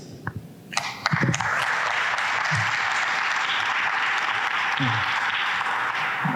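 Mayoral candidate forum in Memphis: after a few voice fragments, audience applause swells and holds as a broad, even wash of clapping for about five seconds, with brief speech sounds cutting in partway through.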